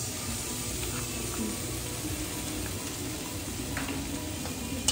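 Ginger paste frying in a pan with fried vegetables for sukto, a soft continuous sizzle and hiss at low level, close and steady, with no voices.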